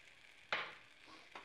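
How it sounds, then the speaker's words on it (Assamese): A spice mixture is stirred and fried in a pan for a pointed gourd fry, giving one loud burst of sizzling and scraping followed by a softer second stir, with no talking. "আকৌ ধুনীয়াকৈ লৰাই পেলাম"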